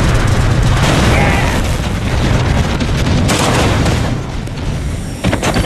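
V3 rocket launcher missiles explode in Red Alert 2, a loud sustained rumble of blasts and booms that rolls on for several seconds before fading slightly near the end, with game voice announcements around it.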